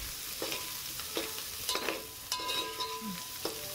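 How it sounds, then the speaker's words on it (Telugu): Dried red chillies and green chillies sizzle steadily in hot oil in a pan for gongura chicken, with occasional soft stirring scrapes and small pops close by. "ఆ తర్వాత ఒక 3 నుంచి 4 వరకు పచ్చిమిర్చి వేసుకొని దీనిని మంచిగా ఫ్రై చేసుకోవాలి"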